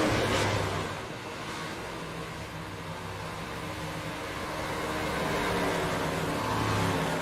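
A troubled race car's engine during a sim racing game at Knoxville, a steady droning roar with a low uneven hum underneath, swelling and dipping slightly as it runs, heard alone without talk.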